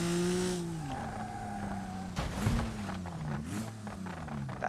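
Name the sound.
Ibishu Claria wagon crashing in a video game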